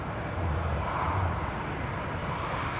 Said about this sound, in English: Loganair Embraer ERJ 145 EP from Southampton on finals